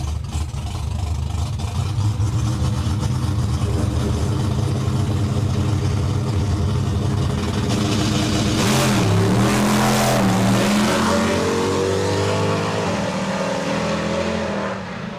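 Nitrous-fed drag cars, a small block against a big block, rumble loudly at the line before a sharp burst of acceleration and roaring, rising engine howl as they launch down the strip.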